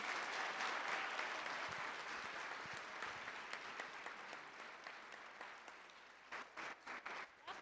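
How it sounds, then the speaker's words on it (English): Sustained applause from an audience at a school district governing board meeting, a broad steady clatter of many hands that slowly thins out, ending in a few louder separate bursts. "So let's give them another round of applause."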